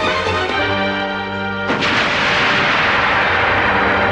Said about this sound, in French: Ok, elle a explosé.